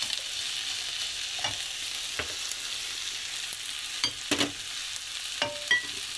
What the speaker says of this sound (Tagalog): Ginisa sa garlic and onion and chili.